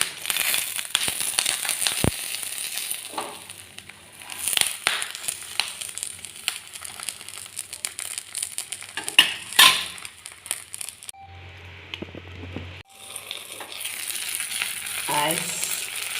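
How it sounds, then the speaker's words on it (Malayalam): Fish sizzles and crackles steadily in a frying pan, a dense, close hiss with scattered pops, briefly interrupted by a low clatter before the frying resumes. "അപ്പോൾ നമ്മളെ മീൻ ഇതാ ഫ്രൈ പാനിലേക്ക് വെച്ച് കൊടുത്തിട്ടുണ്ട്"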